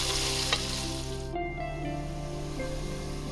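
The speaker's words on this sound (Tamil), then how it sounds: "இந்த வெங்காயம் எல்லாம் நல்லா பொன்னிறமாக ஆகிற வரைக்கும் நல்லா வதக்கிக்கலாம்." Onions sauté in a pan until golden for an Ambur seeraga samba chicken biryani. A steady, dense sizzle runs unbroken throughout, close and moderately loud, with no speech.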